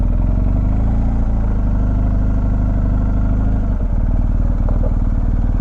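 A 2019 BMW R1250 GSA motorcycle engine runs at low speed, a loud, close, steady throbbing rumble with a faint mechanical clatter, continuous throughout.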